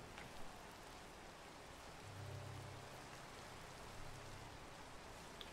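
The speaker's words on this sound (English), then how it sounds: "are you trying to sleep through the rain?" Steady rain falls in the Minecraft video game, a continuous soft hiss of drops that stays even and fairly quiet throughout, with no voices.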